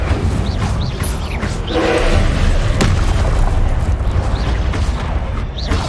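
An Incendio fire spell blasts in Hogwarts Legacy, a loud, dense burst of roaring, booming flame that holds steady through the stretch amid game effects, with no talking.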